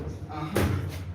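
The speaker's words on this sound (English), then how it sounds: "now we put back this door" A door is set back into place with a single sharp thud midway, amid background voices and room noise.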